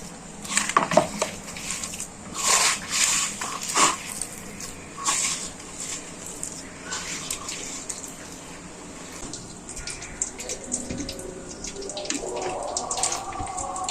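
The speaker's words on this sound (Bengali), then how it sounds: "পানি দিয়ে দিচ্ছি।" Water poured into a mashed potato and onion fritter mix with ginger-garlic paste, splashing and trickling in irregular bursts close by, followed by wet mixing sounds.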